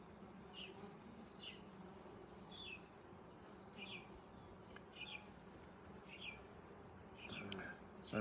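Honey bees hum steadily around an open hive during an inspection, a continuous low buzz close by, with brief bird chirps cutting through at regular intervals.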